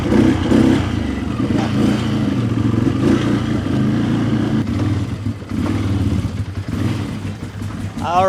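Can-Am Outlander 800 ATV engine with a no-power fault running at steady throttle in a shop, a continuous loud mid-pitched drone with slight surges throughout.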